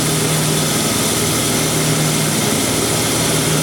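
A rock saw slowly cuts through a large yard rock at a single fixed feed speed, producing a loud, continuous, steady motor drone with grinding noise throughout.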